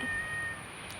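A single short cat meow, fairly close and clear, followed by quiet background.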